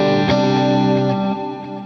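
A sustained guitar chord processed through a Strymon BigSky MX chorale reverb shimmers with a warbling, chorus-like wash, with a second strum blending in before it decays.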